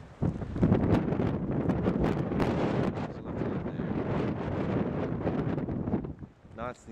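Strong wind by the ocean at Cape Leeuwin buffets the microphone in loud, rumbling gusts, roaring steadily for several seconds before easing near the end.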